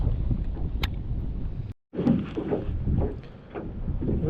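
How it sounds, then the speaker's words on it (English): Strong wind buffets the microphone outdoors on a freshwater fishing trip, a close rumbling roar in gusts that cuts out briefly once. "it's real windy out"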